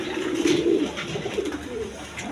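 A pair of large Danish pigeons coos steadily in low, throaty rolls at close range, with a faint background hiss and no talking.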